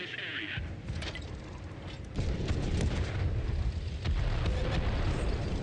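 Artillery fire in a tank video game: several heavy booms, each landing a couple of seconds apart, with a sustained rumbling roar between and after them.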